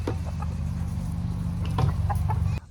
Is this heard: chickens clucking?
yes